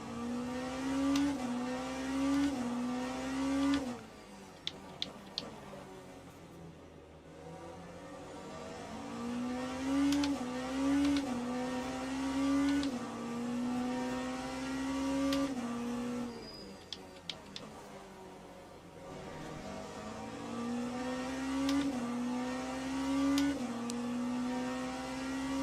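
Race car engines at Interlagos in Le Mans Ultimate, a loud steady engine drone rising in pitch through gears, dropping on shifts and braking, then climbing again across several acceleration runs.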